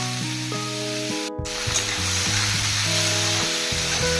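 Finely chopped onions go into hot oil already holding bay leaves and cumin seeds, setting off a loud, close, steady sizzle after a brief dip at the moment they drop in.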